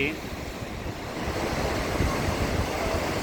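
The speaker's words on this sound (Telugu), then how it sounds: "ఇప్పుడు అక్కడ అలలు ఒక్కోసారి చాలా స్పీడ్గా అలలు అలా స్పీడ్గా వస్తూ ఉంటాయి." Loud, continuous roar of ocean surf washing onto a beach in Visakhapatnam (Vizag), with heavy wind buffeting throughout.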